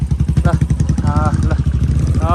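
Motorcycle engine throbbing steadily and close by during a ride through hill roads in Panchthar, Nepal, with a rapid low pulsing rumble and voices talking over it.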